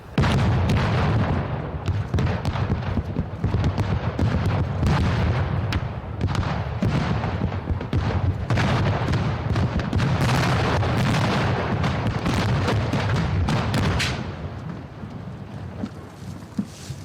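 A huge special-effects explosion on a James Bond film set roars into a long, sustained rumbling blast with crackling debris, loud throughout, then tapers off near the end.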